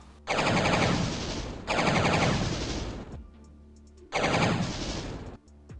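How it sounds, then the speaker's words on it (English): Dual revolvers firing as a chain gun in a Doom mod, roaring in three long, loud sustained bursts with short pauses and sharp clicks between them, no talking. "apparently the dual revolvers are chain gun in this mod"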